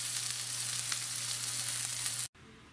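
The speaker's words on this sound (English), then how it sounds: "Now I'm going to be flipping it soon, and I'm going to sear it on this other side" A chuck roast sears in a hot pan with a loud, steady, close hiss that cuts off abruptly near the end, leaving a quieter room tone.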